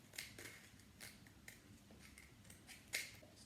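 Scissors trimming the crooked edge of a paper unicorn piñata, heard as a series of soft, crisp snips spaced about half a second apart at close range, ending in one sharper cut, with no talking.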